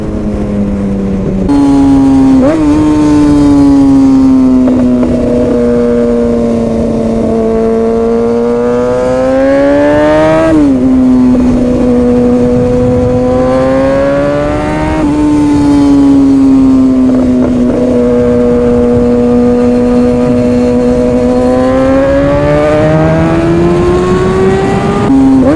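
A BMW scrambler motorcycle engine revs loud and close throughout, its pitch rising and falling through several long sweeps toward the rev limit, with no talk over it.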